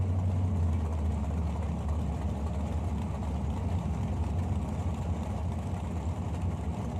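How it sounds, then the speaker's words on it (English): A G&S chassis front-engine nostalgia dragster and a Chevy Nova sit at a bracket drag race. A heavy, low engine rumble idles steadily throughout, with no clear talking. "The G&S chassis and dyno front engine dragster on the right hand side."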